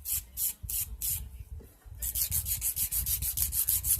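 Gel nails are filed with a black 100/100 grit file in quick, even back-and-forth strokes, close and fairly soft, with a brief pause midway before the rhythmic rasping resumes faster.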